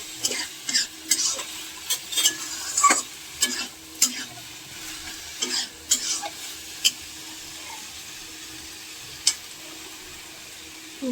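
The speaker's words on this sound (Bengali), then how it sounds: "গরম মশলাটা দিয়ে একটু নেড়ে দিই, এবার তারপর ঘি দেব" Cabbage being stirred with garam masala in a pan, a spoon scraping and clinking against the metal in irregular bursts over a soft, steady sizzle; no one speaks.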